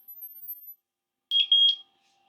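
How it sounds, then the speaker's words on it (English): A EufyCam S3 Pro security camera gives a high-pitched squeal and a quick run of electronic beeps while pairing with its home base, clear and close after a faint flutter of faint noise. "There was a high-pitched squeal, and it's coming again with some additional beeps, and that's actually happening while our EufyCam is actually connecting to the home base."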